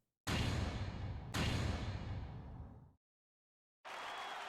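Fireworks in The Great Ace Attorney Chronicles go off as two loud bursting whooshes in quick succession, each trailing off, followed by a gap and a steadier crackling hiss.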